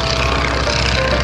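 A Stearman biplane makes a loud, steady propeller-engine drone as it flies low past the crowd at the 2009 NAS Oceana airshow. The noise is continuous and close throughout, with no voices.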